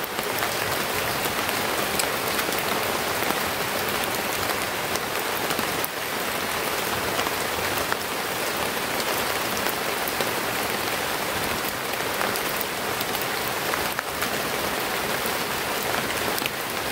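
Heavy rain pours steadily on nearby surfaces, a loud, dense, unbroken hiss with scattered drop impacts running throughout, with no voices.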